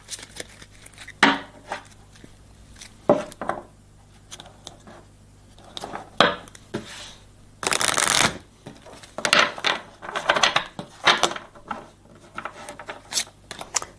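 Tarot cards being shuffled by hand for a reading, quick riffling bursts and soft slaps in irregular clusters, fairly close and quiet, with a louder sustained riffle midway.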